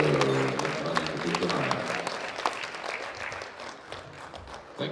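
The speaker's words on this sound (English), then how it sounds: "Give him a round of applause." Audience at the European Classic Powerlifting Championships applauds a lifter, with steady crowd clapping that starts strong and gradually tapers off, alongside a faint murmur of voices.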